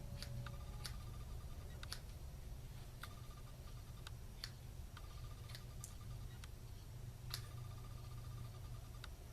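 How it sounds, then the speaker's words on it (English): Hand snips trimming the edges of a thin draped piece of material, giving a series of faint, sharp cutting clicks spaced about a second apart against a quiet, steady background hum. "just trim it off with your snips around the edges"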